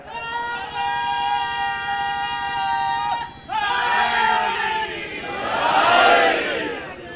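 A large crowd at a religious gathering chants a slogan together in loud, sustained unison, the voices swelling in two waves with a brief dip in between.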